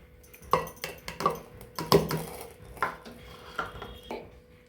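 Rice flour being added to gram flour in a bowl: a spoon and metal utensils clink and knock against the bowl in several distinct taps and clatters, close and fairly quiet.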